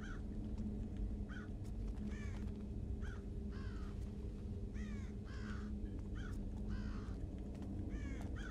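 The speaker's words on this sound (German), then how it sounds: "Da unten ist der Rabe, ne?" Ravens caw repeatedly in the stealth game Thief (2014), harsh croaking calls in irregular bursts over a steady low ambient hum, with no talk.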